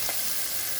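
Onions frying in a pan until reddish, a brief continuous hiss of sizzling at steady loudness, without any voices.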